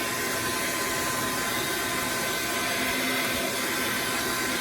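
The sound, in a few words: hair dryer blowing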